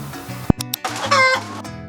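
Hens cluck and squawk at a poultry farm holding thousands of laying birds, with a sharp close cluck, a burst of overlapping calls and a brief crow-like cry, all loud and near.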